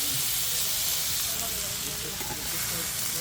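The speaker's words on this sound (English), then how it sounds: "Sizzling on the plate." Fish sizzling loudly on a hot serving plate at a beach lounge on Bantayan Island, Philippines; a dense, continuous hiss and crackle, close and steady throughout.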